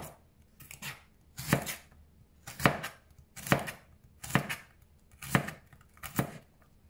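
A knife chops celery on a cutting board for a tofu stir fry, about seven crisp, evenly spaced cuts close to the microphone, with no talking.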